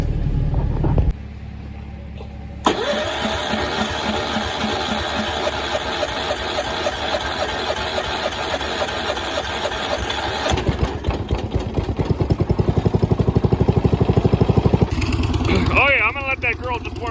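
A Case 430 tractor engine cranks over, then catches and settles into a loud, steady idle with a chugging rhythm, heard up close with a shift in tone near the end.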